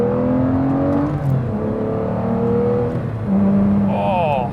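A manual Aston Martin DBS with a V12 revs up through its range in rising and falling sweeps, loud and close, with a brief higher whine near the end.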